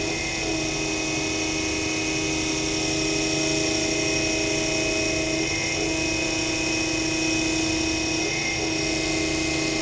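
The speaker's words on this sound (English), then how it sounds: "Start the table reciprocation." A Harig E-Z Surf manual and CNC surface grinder, 6 by 18 inch, runs with its table reciprocating hydraulically, giving a steady, loud mechanical drone and hum that holds throughout with several constant tones and no talking.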